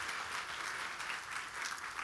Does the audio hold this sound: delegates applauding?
yes